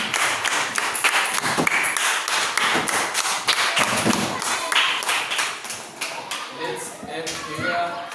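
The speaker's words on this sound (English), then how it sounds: "All of you clap for yourself." A classroom of students clapping for themselves at the end of a lesson, a loud, uneven patter of hands that thins out and fades toward the end, with some voices mixed in.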